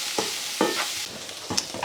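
Garlic and spices sizzling in a pan as they are stirred, with a steady frying hiss broken by a few scraping strokes, close and without speech.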